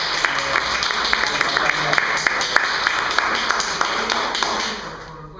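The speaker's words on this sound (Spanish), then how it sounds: "qué mejor que un aplauso para Natalia" Audience applause for Natalia at a workshop on sexual health in older adults, a sustained, even patter of many hands clapping at moderate distance, gradually fading out at the end.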